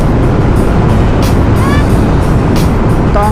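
Steady, loud engine and wind roar from a motorcycle cruising at about 66 km/h, heard through a GoPro Hero 9 Black microphone, with continuous road rumble and no pauses.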